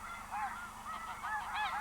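Geese on a wildlife refuge honk repeatedly, several overlapping calls from a flock at moderate distance, faint and unaccompanied by voices.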